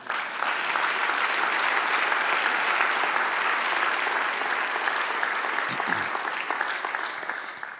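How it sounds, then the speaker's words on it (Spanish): A church congregation bursts into sustained applause, loud dense clapping that fills the room and tapers slightly at the end. "Dale un aplauso."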